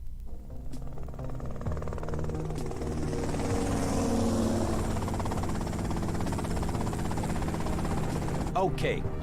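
Helicopter in the video game GTA Vice City, a low droning rotor and engine hum held steady throughout, with faint buzzing and occasional mechanical clicks mixed into the game audio.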